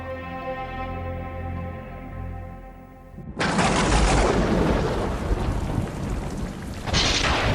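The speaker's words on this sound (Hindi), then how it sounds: "अरे इतनी तेज बारिश हो रही है" Heavy rain with thunder: a deep rolling thunder rumble opens, then a sudden loud, dense downpour roars in close and continues steadily, with no voices.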